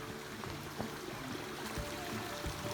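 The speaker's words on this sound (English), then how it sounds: "found this little trickle of a creek, a spring, and it goes right under" A small spring creek trickles under a walkway in San Francisco, making a faint, steady burble and drip with soft ambient hiss and no voices.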